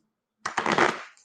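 Tarot cards shuffled by hand in a short burst of dense riffling and flicking, close and fairly quiet, starting after a brief silence and tapering off.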